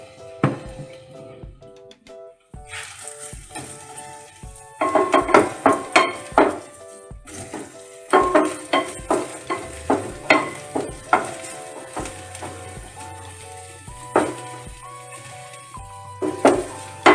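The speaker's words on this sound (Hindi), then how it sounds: "प्याज डालेंगे और प्याज को हम हल्का सा पिंक कर लेंगे" Onions frying in oil in a pan for aloo samosa filling, a light sizzle punctuated by repeated clinks and scrapes of a spoon stirring against the pan, close and fairly loud, with no talk.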